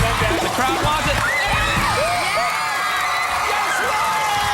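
Studio crowd at the Brainsurge game show cheering and whooping steadily throughout, dense and loud, with voices yelling over it.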